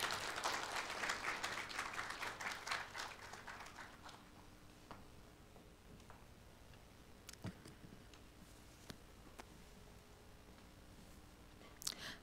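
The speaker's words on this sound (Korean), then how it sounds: "큰 박수로 맞이해 주시기 바랍니다" An audience at a college performance forum gives a presenter a burst of applause, dense and fairly full for the first few seconds, then thinning to a few scattered claps and faint room noise.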